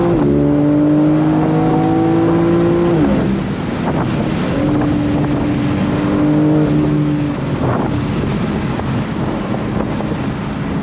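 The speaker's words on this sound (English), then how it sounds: "Love that exhaust." A 2022 BMW M4 convertible's engine revs hard and drops back, its rising and falling exhaust pitch loud and close over heavy wind rush, with a second rev midway through.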